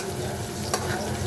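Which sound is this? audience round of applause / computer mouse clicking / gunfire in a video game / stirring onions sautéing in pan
stirring onions sautéing in pan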